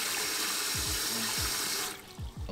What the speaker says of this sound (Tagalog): Bukas ang tubig dito.